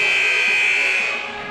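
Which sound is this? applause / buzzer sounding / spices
buzzer sounding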